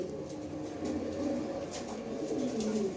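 A female racer pigeon coos in low, rolling murmurs that repeat steadily through the moment, close by, over a constant background hum.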